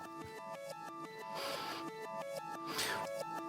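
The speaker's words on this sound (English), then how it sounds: "I believe this is a kalimba plastic preset from Ableton that I'm playing a bunch of notes on, and it has a bunch of delay on it, and then it's reversed" A reversed Ableton kalimba plastic preset with heavy delay plays a repeating run of plucked notes that swell backward into each attack, with a brighter noisy wash rising midway and again near the end.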